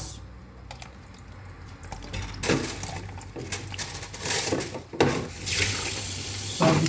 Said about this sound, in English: just use your spoon to sieve it out.